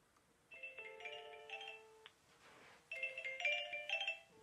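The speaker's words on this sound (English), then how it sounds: "we're ringing over here, and it says the incoming call is the iPod Touch." Electronic ringtone of an incoming LinPhone SIP VoIP call on an iPod Touch, two bursts of a bright melodic ring separated by a short pause, fairly faint in a quiet room.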